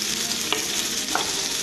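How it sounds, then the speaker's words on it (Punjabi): Chopped onions with cumin sizzle steadily in a hot pan, a constant close frying hiss broken by a couple of soft scraping stirs. "ਇਹਨਾਂ ਨੂੰ ਚੰਗੀ ਤਰ੍ਹਾਂ ਪਿਆਜ਼ ਨੂੰ ਅਸੀਂ ਬਰਾਊਨ ਹੋਣ ਤੱਕ, ਪਿੰਕਿਸ਼ ਬਰਾਊਨ ਹੋਣ ਤੱਕ ਭੁੰਨਾਂਗੇ"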